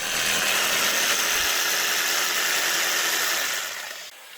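A power saw cuts timber for beehive lids, a loud, high whine with a low hum that drops out early, then trails off as the blade winds down.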